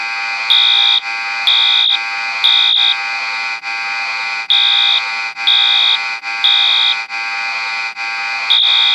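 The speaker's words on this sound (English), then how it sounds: "I'm going to pull the fire alarm and the buzzer in the gym." A fire alarm in a gym rings steadily and loudly, with a continuous tone and repeating higher beeps pulsing about once per second throughout, with no voices.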